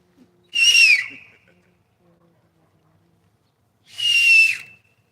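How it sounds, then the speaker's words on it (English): Two separate whistled notes a few seconds apart, each sliding downward in pitch, clear and fairly close against a quiet background. "want me to whistle?"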